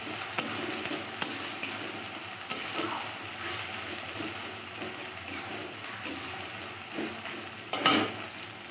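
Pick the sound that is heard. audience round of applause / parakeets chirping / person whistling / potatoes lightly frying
potatoes lightly frying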